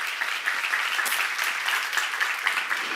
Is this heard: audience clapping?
yes